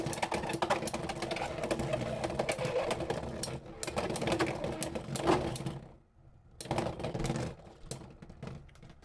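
Beyblade X spinning tops clatter and grind against each other in a plastic stadium, a dense rattling scrape that runs continuously, drops out briefly, then resumes close by.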